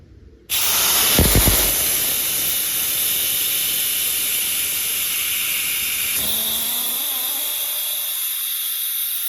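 Air rushes out of a Honda Element tire holding Slime sealant as the valve stem is removed, a loud, close, steady hiss that begins abruptly and drops partway through, with a brief rattle near the start.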